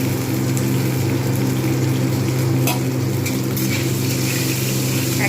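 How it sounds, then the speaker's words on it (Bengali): Ground coriander, cumin and ginger paste with a splash of water sizzle steadily in a pan over low heat, a continuous close frying hiss with faint stirring scrapes and no talk. "একদম আঁচটা কমিয়ে আমি একটু ভেজে নিলাম।"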